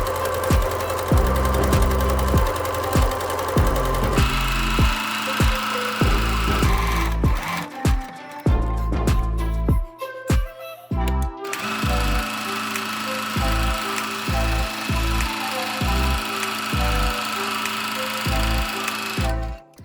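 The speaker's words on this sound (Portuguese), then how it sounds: "agora nós vamos passar a costura direto pelo meio ali" Sewing machine stitching fabric and plastic together, its motor whirring in bursts of rapid needle clatter, stopping and starting several times with short pauses between runs, close up.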